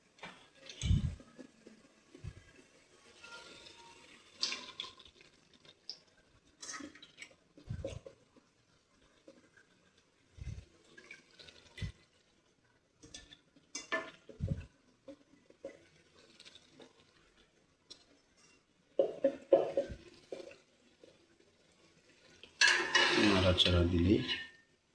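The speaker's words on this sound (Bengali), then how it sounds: "আমি এখন গোস্তটা এর ভিতরে অ্যাড করব।" Beef goes into a pot for a beef bhuna and is stirred: scattered clinks and scrapes of a utensil against cookware, quiet between strokes, ending in a louder, dense rattling burst.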